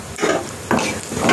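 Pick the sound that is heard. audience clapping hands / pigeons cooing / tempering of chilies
tempering of chilies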